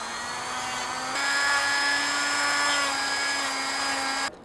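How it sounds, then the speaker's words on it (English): A Dremel rotary tool spins a drum sander to bevel the edge of a foam helmet, giving a loud, steady high-pitched whine that rises slightly in pitch partway through, then stops abruptly. "I'm going to bevel just a little bit more with my drum sander on the Dremel"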